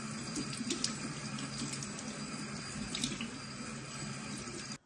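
Tap water running steadily into a sink while someone washes their face, with a continuous splashing flow and a few louder splashes, until it stops abruptly at the end.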